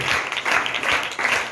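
A church congregation claps during a fasting prayer service, in several steady bursts of rhythmic hand claps that fill the room at moderate loudness, with no voices on top.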